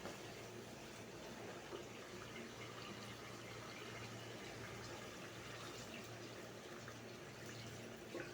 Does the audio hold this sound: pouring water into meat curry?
yes